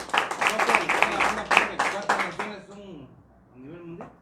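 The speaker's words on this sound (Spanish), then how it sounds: "Démosle un aplauso al Señor." A church congregation claps in a dense rhythmic burst that fades out after a couple of seconds, giving way to a faint spoken voice.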